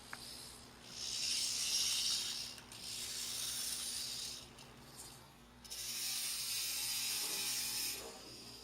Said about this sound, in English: The arm then loosens the large screw.